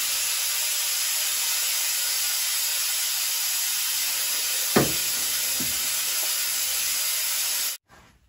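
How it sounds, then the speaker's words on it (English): Coolant draining out of a Toyota Corolla radiator during engine removal, a steady loud hissing rush that runs unbroken, with a faint knock partway through, then cuts off abruptly near the end. "while the coolant's still kind of peeing out"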